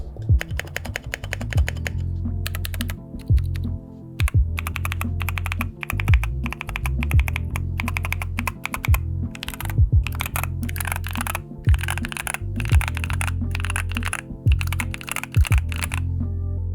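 Steady, fast typing on a mechanical keyboard, crisp clacking keystrokes close up with brief pauses between bursts.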